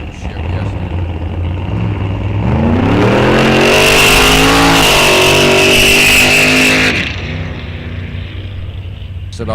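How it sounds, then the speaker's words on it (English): A Chevy S10 running a big 4-barrel carburetor makes a licensing pass at Rock Falls Raceway test and tune; the loud engine roar climbs in pitch through the gears, peaks near the middle, then fades as the truck pulls away. "Here's our licensing pass again here on the Chevy S10."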